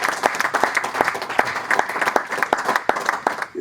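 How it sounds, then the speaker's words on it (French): An audience at an evening testimonial gathering applauds, a dense burst of clapping with sharp individual claps standing out, steady and fairly close throughout. "Applaudissons pour Étienne Tshisekedi."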